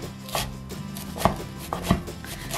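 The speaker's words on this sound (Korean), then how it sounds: "이렇게 쑥은 좀 그냥 잘게 썰어주겠습니다." A knife chops mugwort finely in a few sharp, irregular cuts, each one crisp and close against a quiet background.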